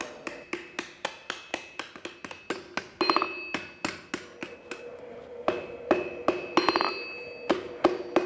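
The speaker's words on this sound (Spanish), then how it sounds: "además del martillo hay que poner aquí la chapa para que se vaya doblando" A hammer strikes a metal plate on an anvil to bend it while forging a shepherd's crook, with sharp ringing blows in a steady, fairly quick rhythm and a few brief pauses between strokes.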